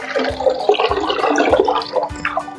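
Hot boiled water is poured into flour dough in a bowl, a loud close splashing gurgle that runs continuously for a couple of seconds with a few uneven surges.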